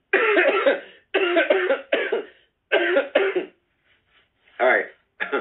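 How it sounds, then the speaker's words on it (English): A person coughing in a quiet room, a run of sharp, close bursts in quick groups with short silent pauses between them, ending in a final hoarse cough. "Sorry, I had to cough."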